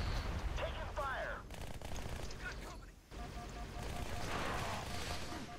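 Rapid bursts of gunfire and combat noise from the shooter game Halo: Spartan Assault, dense and continuous across the clip with a brief dip midway, mixed with game effects and a voice talking over it.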